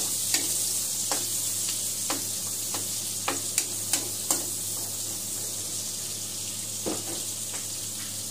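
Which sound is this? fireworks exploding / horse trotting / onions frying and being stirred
onions frying and being stirred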